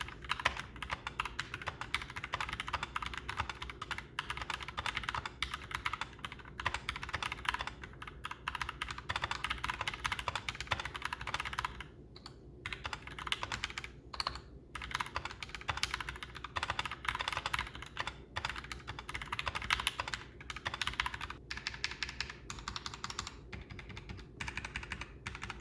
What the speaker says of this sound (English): The last thing I want to do is just give you a quick sound test for the keyboard